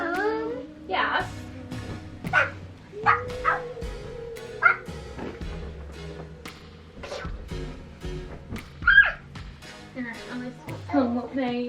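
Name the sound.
dog barking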